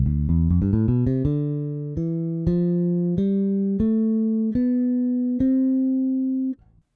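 Ample Bass J virtual bass plugin playing a test run of electric bass notes, starting with quick plucks and settling into longer sustained tones that step upward in pitch, clear and alone.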